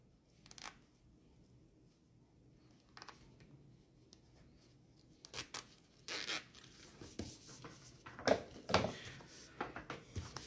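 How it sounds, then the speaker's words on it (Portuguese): A zipper on a handmade fabric makeup bag is opened a little and a new slider is fitted onto it: quiet, short scratchy rasps and rubs, clustered near the end over a faint background. "Abrir um pouquinho o zíper, vou vir com o meu cursor."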